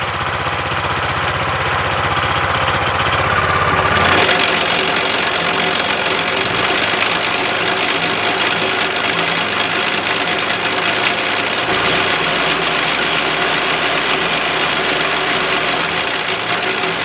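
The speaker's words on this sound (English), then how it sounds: "So when it's idling, the chain don't move." A 15 HP manual trencher engine idles loud and close with a steady, rough mechanical drone that shifts slightly in pitch a few seconds in and again near the end, with no voices.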